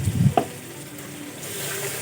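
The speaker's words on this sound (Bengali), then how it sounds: "খুব ভালো করে মিশিয়ে আমি আরও কিছুক্ষণ মশলাটা কষিয়ে নেব" A tomato, garlic, chili and ginger spice paste sizzles and frizzles in a pan, steady and moderately quiet, with a brief stir or clink near the start.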